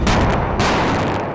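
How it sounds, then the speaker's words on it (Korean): Tank main guns of a three-tank platoon fire together during live-fire gunnery training, two loud booming blasts close together with long rolling reverberation, no talking. "전차 석 대가 한 발씩 다른 표적을 포착해 동시에 쏘았다."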